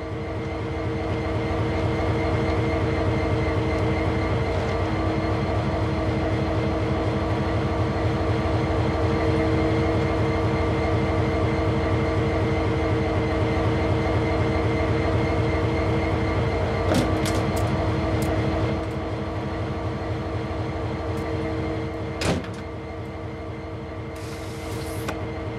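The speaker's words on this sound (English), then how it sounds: "Climb aboard this locomotive and we'll get started." Older diesel locomotive idling in Train Sim World 2, a steady low droning engine hum with a throbbing pulse, close and continuous, with a few clicks and clunks of cab controls toward the end.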